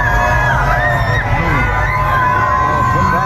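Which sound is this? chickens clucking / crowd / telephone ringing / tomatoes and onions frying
crowd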